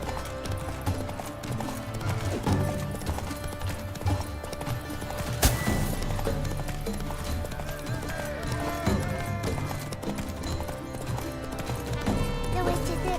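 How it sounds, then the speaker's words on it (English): Horse hooves pounding the ground in a steady, rapid clip-clop, with an occasional whinny and voices talking over the galloping. "hoofs pound the ground"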